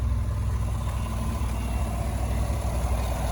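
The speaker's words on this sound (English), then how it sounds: "That is a smooth sounding engine" A 2019 Chevrolet Tahoe Premium 4x4 engine idles smoothly at a low, steady rumble, continuous and even with no speech over it.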